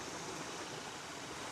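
Fast-flowing torrent water in New Guinea rushes steadily and close by, a dense continuous wash with no pauses and no voices.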